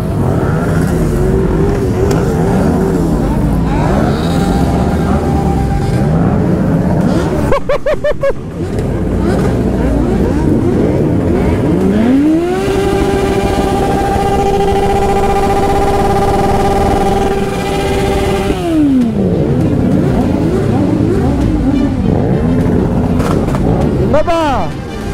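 A car doing a tyre-smoking burnout at night on a street in Lyon: a loud, steady engine roar with a long held high rev in the middle, then dropping back, with people talking and shouting over it.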